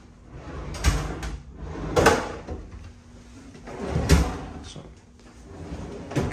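Drawers sliding open and shut nearby in a hotel room, a few dull thuds and scrapes spaced a second or two apart over a quiet room hum.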